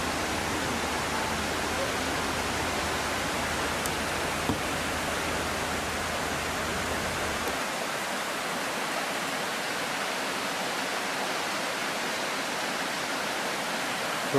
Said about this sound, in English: We had a little noise of the stream all night.